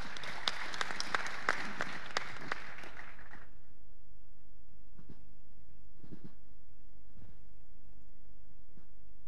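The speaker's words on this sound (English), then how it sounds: "Let's give an applause for Pa Chip." Audience applause at an energy-industry conference plenary session fills the first few seconds with dense clapping and sharp individual claps, then stops abruptly, leaving a quiet room with a few scattered thuds.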